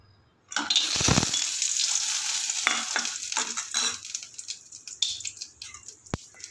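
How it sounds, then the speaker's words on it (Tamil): Cashews and raisins fry in hot ghee in a kadai, a loud sizzle bursting in abruptly and continuing with stirring scrapes and crackles, then easing off with a sharp clink near the end. "நல்லா கோல்டன் கலர் வர வரைக்கும் ஃப்ரை பண்ணிக்கோங்க."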